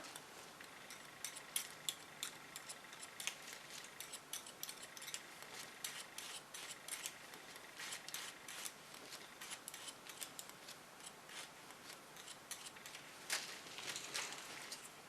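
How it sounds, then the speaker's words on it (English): Scissors cutting hair while styling a short asymmetrical pixie cut: quick, dense snipping and clicking blades that run almost continuously, close and fairly soft, with no voices. "by using the scissor in this angle, it's more stable than when you use it this way, because this is more stable and it's easier to cut with"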